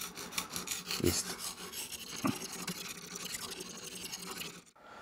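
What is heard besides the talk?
sharpening a knife on a Lansky sharpener stone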